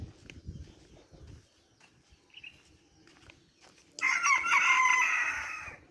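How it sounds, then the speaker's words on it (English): A rooster crows loudly and close by at sunrise, one long strident crow rising after a few seconds of quiet outdoor ambience and soft low rumbles. "Rooster."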